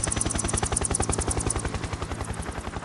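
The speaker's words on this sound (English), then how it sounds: "look at the helicopters. They're doing that whole hitch and yaw thing" Helicopters hover in the Metal Gear Solid 3 video game, their rotors making a loud, rapid, evenly spaced chopping thump that continues without a break, with no voices.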